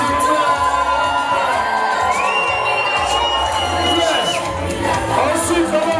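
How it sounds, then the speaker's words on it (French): Guests at a civil wedding for Dieudonné and Claire shout and whoop with joy, a continuous loud crowd roar of cheering and cries with voices mixed throughout. "Est-ce qu'on peut pousser les cris de joie, s'il vous plaît?"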